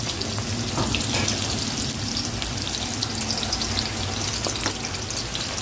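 Sliced onions with a pinch of salt sizzle steadily in hot oil in a home kitchen pan, a dense continuous crackle with no one speaking.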